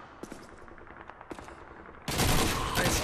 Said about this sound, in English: I love this Thompson so much.